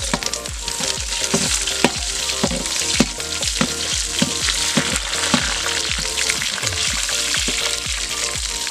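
Cinnamon and chillies fry hard in hot oil in an outdoor village kitchen, a loud dense crackling sizzle with rapid popping and spatter all the way through.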